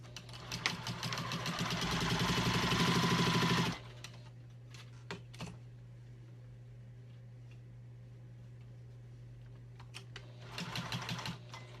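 A Juki 2000 QI sewing machine stitches in a fast, steady mechanical run for several seconds, then stops abruptly, leaving a low steady hum, a few faint clicks and a brief restart of stitching near the end.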